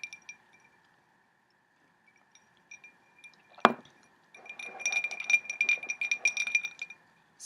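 Ice cubes clink against the glass in a tumbler of scotch at night, with one sharp knock followed by a run of close, bright rattling clinks. No one speaks.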